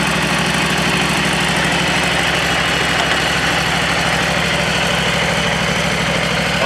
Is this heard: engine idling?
yes